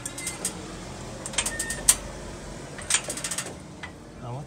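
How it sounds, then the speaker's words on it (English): A jack being cranked to lift a 2015 Toyota Tacoma gives irregular close metallic clicks and ratcheting taps, with people talking at times. "we'll crank this up till the things come up"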